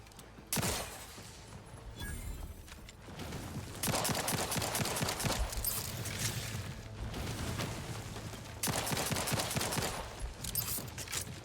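Weapon fire in the sci-fi shooter The Outer Worlds 2 comes in rapid bursts of sharp, loud shots separated by short pauses over a low ambient hum.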